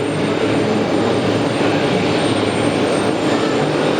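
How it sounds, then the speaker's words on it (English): A Boeing 747-8 jet at JFK begins its takeoff roll, a broad, steady engine roar heard from a distance that holds level throughout with no talk. "7642, Hotel Lima 7642, begin their takeoff roll on the very short mission over to Incheon"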